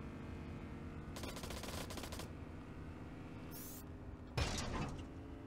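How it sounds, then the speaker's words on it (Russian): Bursts of gunfire in the military game Arma 3, on a role-play server: a sustained volley of rapid shots, then a sharper, louder burst near the end, over steady game background noise. "Там, кстати, кто-то стрелял."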